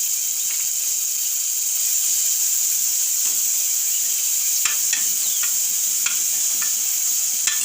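Ginger, chili, garlic and asafoetida crackle and sizzle steadily in hot oil for a dry fruit batata vada tempering, a close, continuous frying hiss with scattered sharp pops and occasional stirring clicks, with no talking.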